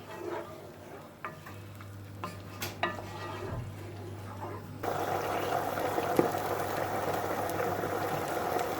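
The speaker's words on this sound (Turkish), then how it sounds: "Patates suyumuz kaynadı." Potato water in a pot coming to a boil, soft bubbling that swells into a steadier rolling boil partway through, with a few utensil clinks and stirring sounds, no voices.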